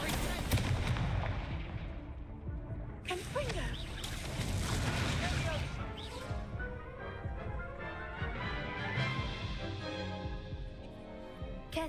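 A fiery spell blasts off in the Hogwarts Legacy video game, a burst of crackling, explosive booms over a dense, loud game soundscape, with voices speaking throughout.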